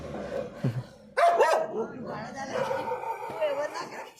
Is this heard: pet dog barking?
yes